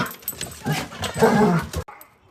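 A dog whimpers and gives short yips and barks close by, mixed with voices talking, ending abruptly.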